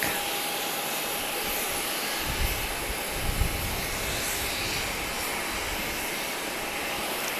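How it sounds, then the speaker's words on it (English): A Cayman Airways Express plane taking off at Grand Cayman for Cayman Brac, giving a continuous hissing engine roar with a brief low rumble swelling near the middle. "other Cayman plane taking off. Cayman Airways Express to Cayman Brac."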